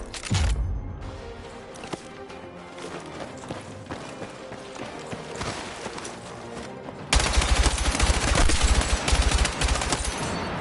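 Rifle with a stubby grip fires in Battlefield 6, in dense, rapid automatic bursts that crackle continuously for several seconds, getting louder and fuller toward the end with heavy low thumps.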